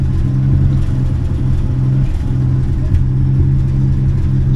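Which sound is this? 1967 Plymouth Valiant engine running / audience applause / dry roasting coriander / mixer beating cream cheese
1967 Plymouth Valiant engine running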